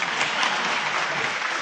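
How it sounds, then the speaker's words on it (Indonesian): Steady, dense applause from a seated audience at a motivational talk, a continuous wash of many hands clapping at even loudness with no voices over it. "kalau mau tepuk tangan yang ikhlas Pak"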